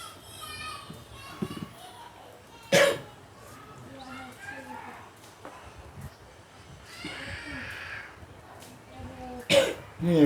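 A few loud, abrupt coughs and throat clears burst out in a room during a Sunday satsang gathering, spaced among murmured talk and background voices.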